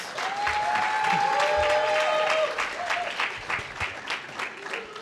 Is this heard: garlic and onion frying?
no